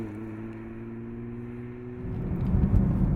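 A 2020 Nissan GT-R 50th Anniversary is heard from inside as it drives around town: a steady engine hum that swells into a louder, rougher rumble as it accelerates toward the end.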